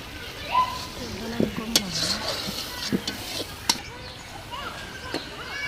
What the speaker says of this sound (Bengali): এখন মশলাটাকে ভালো করে কষাই নিবে উপরে তেল ওঠা পর্যন্ত।